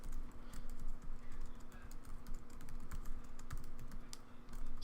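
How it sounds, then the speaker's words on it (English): Rapid, uneven clicking of a computer keyboard while text is typed during a Windows Server 2008 setup running in VMware Fusion on a Mac, with steady close keystrokes and no voices. "we want to type something in because this is actually going to show up in our system log"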